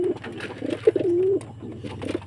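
Pigeons coo close by in a series of soft, throaty calls, one drawn-out coo in the middle, with no talking.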